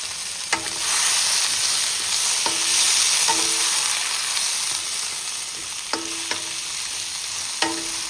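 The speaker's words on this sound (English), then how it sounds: "Cauliflower, broccoli, carrot and whole garlic cloves. We'll get that just nice and stir fried." Cauliflower, broccoli, carrot and whole garlic cloves stir frying in a pan, a steady close sizzle with several sharp clinks and scrapes of a utensil tossing the vegetables at irregular intervals.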